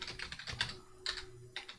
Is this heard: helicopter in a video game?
no